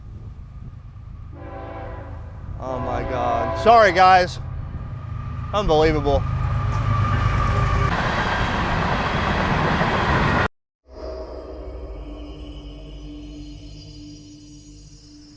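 A train rumbles past close by, its horn blaring in several long blasts, while someone speaks over the roar before the noise drops away.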